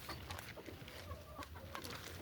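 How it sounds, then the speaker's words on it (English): Chickens in a backyard coop, soft scattered clucks and short murmurs from several birds close by, faint and continuous with no talk. "Happy chickens."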